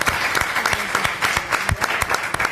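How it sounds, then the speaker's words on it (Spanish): Brisk audience applause for a prize winner from Lobería, Buenos Aires province, at a televised event, with sharp individual claps standing out in a close, dense burst. "Lucas Alfonso, aplausos, es el ganador de Lobería,"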